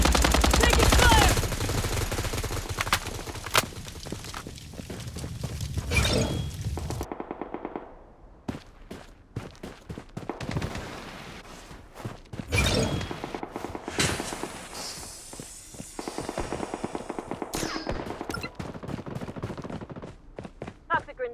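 Automatic gunfire in the Blood Strike shooter game, Hot Zone mode: loud sustained bursts at first, then a lull and scattered shots and thuds, with game voice callouts over the action.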